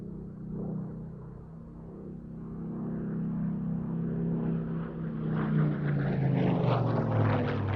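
A propeller-driven photographic reconnaissance aircraft passes at an airshow, a steady droning engine rumble that swells gradually louder and brighter as it approaches, with no voices over it.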